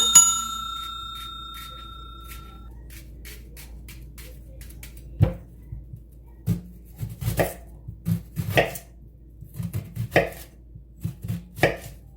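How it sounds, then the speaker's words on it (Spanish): Knife chopping onion on a board for a homemade Subway-style broccoli soup: a quiet start, then irregular bursts of sharp, close cuts that grow denser toward the end, with no talking. "También voy a picar un poquito de cebolla."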